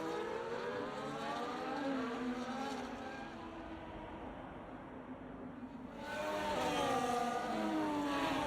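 Race cars in an F1 video game at the Qatar Grand Prix, heading into the first corner: a steady, loud whine of several engines with overlapping pitch sweeps, swelling louder near the end.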